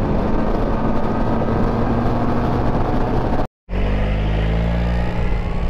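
Suzuki Burgman 650 scooter kicks down and accelerates, its engine droning loud and close with rising pitch, broken by a brief dropout before the revving continues stronger.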